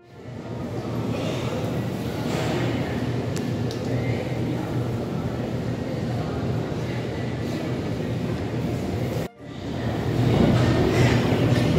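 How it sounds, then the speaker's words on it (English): Baku Metro train in an underground station, a loud continuous rumble of the train running through the station with a brief break near the end before the roar resumes. "I'm in a metro station underground in Baku city."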